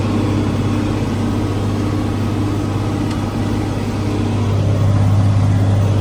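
A tractor engine runs steadily while the tractor plants corn, a loud, constant low drone from inside the cab that swells slightly near the end, with no talking.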